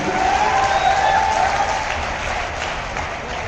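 A live crowd at a Manoj Muntashir event in Chitrakoot claps loudly and steadily for a few seconds, with a dense wash of applause and crowd noise.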